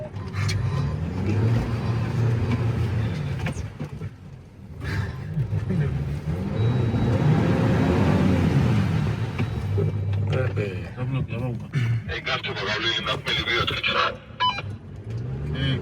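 A Jeep Wrangler's engine drones and surges while driving an off-road mud track between Rkoni and Manglisi, a continuous rumbling load with revving swells and people talking inside.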